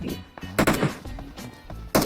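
Gunfire in the mobile battle royale game PUBG Mobile, a few sharp shots in a loose sequence, fairly close, with one more crack at the end.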